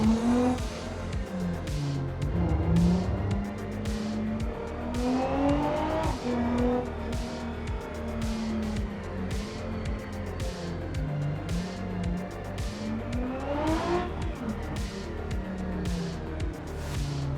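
A V6 car in the BeamNG driving game revs hard through repeated gear changes, its pitch climbing and dropping, with tire squeal and a steady engine drone, loud and close throughout.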